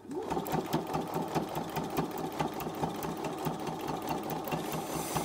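A sewing machine stitches a denim work apron, its needle running in a fast, even mechanical chatter of rapid repeated clicks, steady and close throughout.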